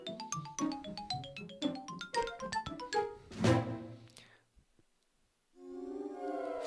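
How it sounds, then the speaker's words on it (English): Original Nintendo GameCube console startup sound: a quick run of bright, bouncing electronic notes, a swelling shimmer, then a soft sustained chord after a brief silence, fairly quiet overall. "Normally, the original startup sound for this classic Nintendo video game console would sound like"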